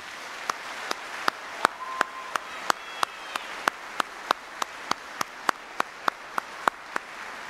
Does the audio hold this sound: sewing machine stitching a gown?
no